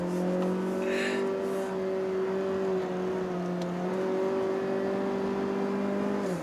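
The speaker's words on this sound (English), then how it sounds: "So you can hear the engine really revving" A 1.5-litre Mazda 3 hatch engine revs steadily on a mountain road, a sustained droning whine holding its pitch with slight dips, loud and continuous with faint tire and road noise underneath.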